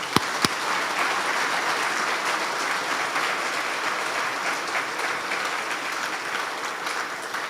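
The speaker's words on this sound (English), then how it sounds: "One more round of applause for the awardees tonight," An audience at a Marine Corps professional dinner at Camp Lejeune applauds in a sustained, dense wash of clapping that opens with a couple of sharp claps and holds steady with no speech.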